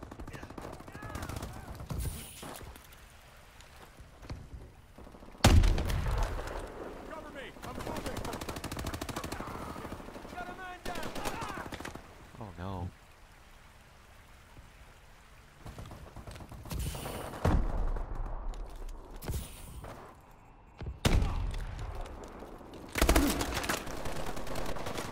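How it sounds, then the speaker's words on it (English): ARX-160 rifle fired without a suppressor in Call of Duty Advanced Warfare, with loud bursts of automatic gunfire breaking in sharply between quieter game sounds, over in-game radio voices and player talk. "this gun is so much more better without suppressor"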